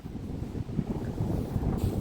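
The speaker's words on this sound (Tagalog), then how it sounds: "Lakas ng hangin guys." Strong wind at snow-covered Britannia Beach, a steady low rumbling buffeting of gusts against the microphone, continuous and fairly loud throughout.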